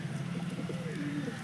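Inside a loft, a pigeon coos in a short series of low, throaty murmurs, close by and steady, with no talk over it.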